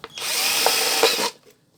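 A power drill bores into a plastic soda bottle being made into a shrimp trap, one loud continuous whirring burst of about a second, starting and stopping abruptly, close up with no talk.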